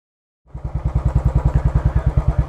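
A Royal Enfield Bullet Trials Works 500 replica motorcycle fires up after a short silence and settles into a loud, close, evenly pulsing thump from its exhaust.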